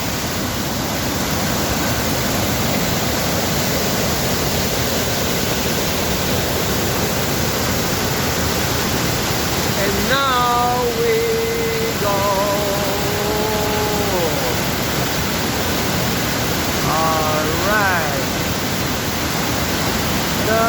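Rushing waterfall seen from a top viewpoint, a loud steady broadband roar of falling water filling the whole scene, with a few faint whistling or bird-like tones rising over it midway.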